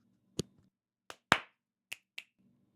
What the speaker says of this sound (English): Let's go ahead and do a clap thing.